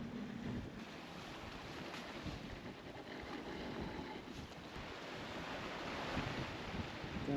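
A sailboat runs downwind off the Isle of Wight with two reefs in the main and a jib set, giving a steady wash of wind and waves with microphone buffeting throughout and no talking.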